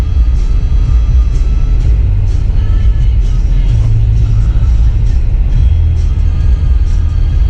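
Full-size truck grinding off-road through snow in four-wheel drive in Montana, a steady loud low engine rumble running continuously without pause.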